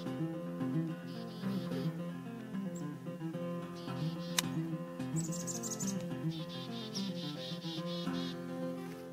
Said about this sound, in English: there's a little flock of chickadees